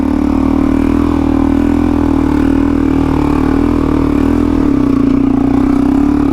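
A Suzuki DRZ400E motorcycle ploughs through sand, its engine holding a loud, steady, close droning rev throughout with only a slight dip near the end and no talking.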